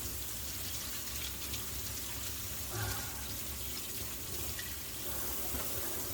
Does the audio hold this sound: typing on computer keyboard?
no